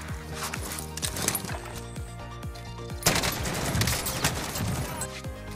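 Kar98 bolt-action rifle fire in the video game Warzone, heard as sharp shots over steady game noise, with a louder burst of gunfire partway through.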